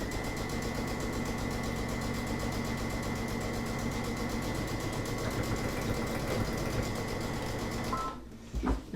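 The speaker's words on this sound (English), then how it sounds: "I'm just going to do a top stitch" A Brother sewing machine top-stitches a cushion cover in a steady, rapid mechanical whir that runs continuously, then stops with a few faint handling knocks at the end; close, no voices.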